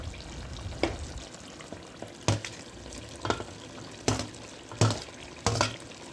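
Tomato frying in a pot of culls curry gives a steady sizzle, broken by five or six sharp stirring scrapes and bursts spaced about a second apart, close up with no talking.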